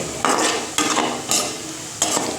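Onions being fried into crisp berista in hot oil for chicken biryani, a steady close sizzle broken by several bursts of stirring and scraping in the pan, with no talking.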